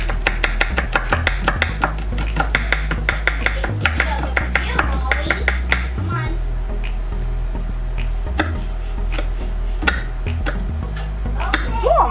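Knife chopping food on a cutting board while making vegetarian and beef enchiladas, a quick steady run of close, crisp cuts over a low background hum.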